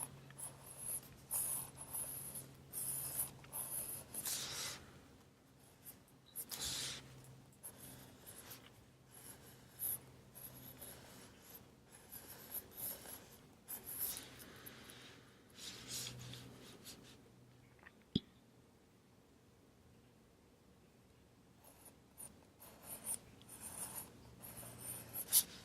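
A pencil drawing straight lines on paper, faint scratchy strokes repeating in short bursts with quiet pauses between them and a sharp tap near the end.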